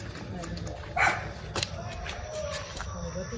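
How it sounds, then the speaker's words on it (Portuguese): A dog barks a few times at a distance, with people talking nearby and other background noise. "O cachorro tava latindo, ele tá latindo agora"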